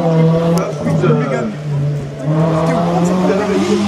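A Citroën Saxo race car at a hill climb course, its engine droning steadily with a rising tone that dips and climbs again, loud and close, with an announcer talking over it throughout.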